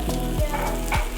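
Banh xeo, a crispy Vietnamese crepe, sizzles and fries in oil in a pan, a steady close crackle with a couple of brief louder swells, no voices.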